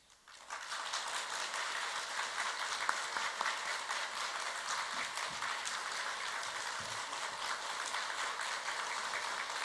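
A church congregation applauds to welcome its pastor to the pulpit, dense sustained clapping that starts abruptly and holds evenly throughout, with no talking.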